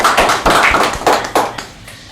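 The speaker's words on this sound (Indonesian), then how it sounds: "Kita tepuk tangan dulu." Audience clapping at an Indonesian science talk event, a few seconds of scattered, uneven hand claps rising and falling in loose bursts, fairly close and fading toward the end.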